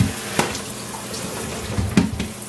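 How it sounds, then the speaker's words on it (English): Tap water running over plums in a strainer, a moderate steady splashing stream with a couple of louder bursts as fruit shifts. "I'm going to get the water running"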